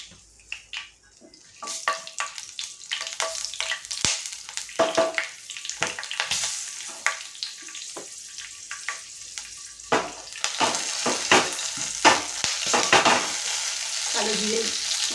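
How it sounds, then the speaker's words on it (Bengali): Three green chillies hitting hot oil, loud crackling sizzle with bursts of spattering and stirring scrapes that swell and ease over time, close up with no voices. "এতে আমি যে 3টে কাঁচা লঙ্কা নিয়েছিলাম সেই কাঁচা লঙ্কাগুলো এই তেলের মধ্যে আমি দিয়ে দিলাম"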